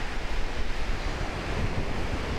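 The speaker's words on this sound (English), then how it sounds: "Very, very windy." Strong wind roars steadily at a campsite at Split Rock Lighthouse State Park on Lake Superior, buffeting with broadband rushing noise like surf, continuous and loud with no voices.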